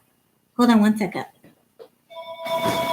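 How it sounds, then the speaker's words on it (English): A landline telephone rings in steady repeated bursts near the end, entering after someone speaks briefly and continuing loudly on its own. "so I'm sorry for the phone ringing."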